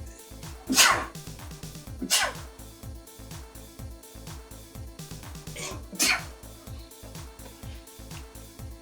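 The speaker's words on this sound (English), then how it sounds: "bit of a sneeze there" Three loud, sharp sneezes from a person, spaced a few seconds apart, with soft background noise between them.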